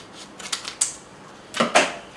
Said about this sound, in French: Je vais utiliser aussi les ciseaux.